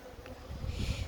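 Honeybees buzz close by around their beehives in a brief, dense hum that swells slightly toward the end.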